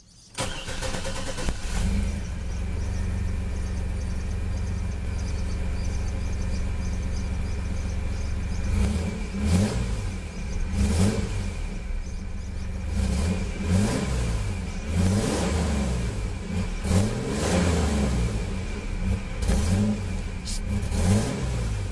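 A 1998 Chevy Blazer with the 4.3 engine, fitted with a new distributor, runs at a steady idle, then revs repeatedly in rising and falling bursts, loud and close, with no one talking.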